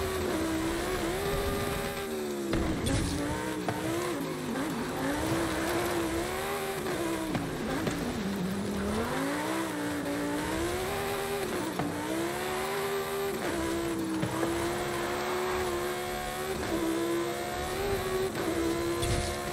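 A 2011 Lamborghini Sesto Elemento Forza Edition roars continuously in a racing game, its engine pitch rising and falling through gear changes and revs at steady, loud volume with no talk.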